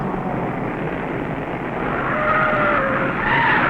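1952 NASCAR Grand National stock cars roar through the south turn from road onto the beach at Daytona, their engines a dense, continuous rumble that grows slightly louder as cars sweep past.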